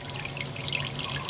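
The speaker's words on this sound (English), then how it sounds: "main drain plug on the pan is down to drips now" Engine oil from the pan drain plug of a Lexus RX350 dripping and trickling into a catch bucket, a steady close wet patter with no talk.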